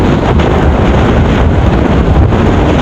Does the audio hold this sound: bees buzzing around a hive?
no